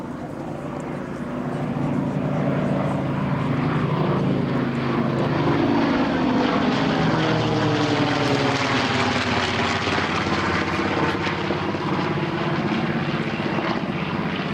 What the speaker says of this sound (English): in formation, the TBM Adventure and the P-51 Mustang. Coming right at you.